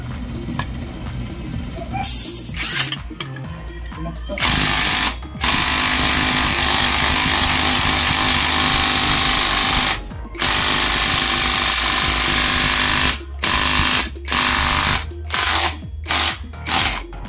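An impact wrench works on a limited-edition Yamaha Mio Soul i 125 motorcycle, firing one long, loud buzzing burst and then several shorter bursts with brief pauses between them, close up and without speech.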